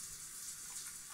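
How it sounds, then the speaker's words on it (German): A shower runs in the life-simulation game The Sims 4, a steady, even hiss of falling water with no talk over it. "Dusche duscht."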